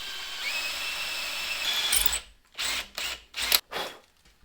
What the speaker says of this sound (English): So to be on the safe side, let's drill these out.